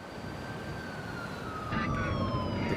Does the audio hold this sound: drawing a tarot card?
no